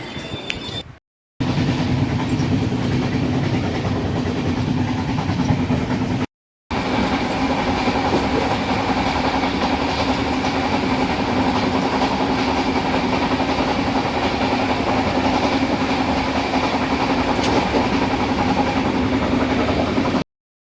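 Train running, heard from inside a 2nd AC coach on a Hyderabad to Odisha journey, a loud steady rumble with a low hum that cuts out briefly twice, and no voices.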